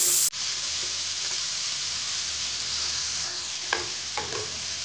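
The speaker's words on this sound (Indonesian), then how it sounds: "Ini ditumis sampai bumbu matang." Spice paste hisses and sizzles steadily in a hot pan as it is stir-fried, a constant close frying hiss with a few faint scrapes of stirring.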